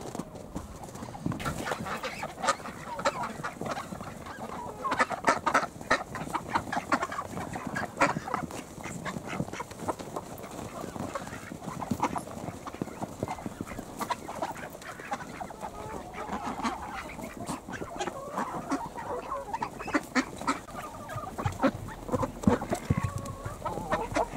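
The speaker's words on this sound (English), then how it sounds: "most of the other hens are in the big hen house there" Hens cluck and squawk steadily over a busy farmyard din on a freezing winter allotment, with other fowl calling and scattered knocks throughout.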